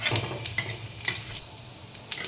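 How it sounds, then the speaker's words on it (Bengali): Finely chopped ginger frying in hot oil, a low steady sizzle with a few sharp clinks and scrapes of a utensil against the pan. "তেলটা গরম হয়ে গেছে, একটুখানি আদা কুচি, গ্রেট নয়, ছোট্ট ছোট্ট করে কুচি এর মধ্যে দিয়ে দিলাম, তেলের মধ্যে দিলাম"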